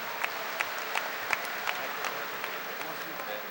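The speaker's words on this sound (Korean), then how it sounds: "여러분 다시 한번 뜨거운 감사의 박수를 보내주시기 바랍니다" Scattered applause from a large party convention crowd in a big hall, fairly quiet and distant, with individual claps popping out at an irregular pace.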